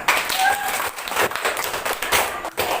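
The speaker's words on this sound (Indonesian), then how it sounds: "Ya, betul, tepuk tangan." Children in a primary school classroom clap briefly in a scattered, uneven burst of hand claps, fairly faint, with some background voices.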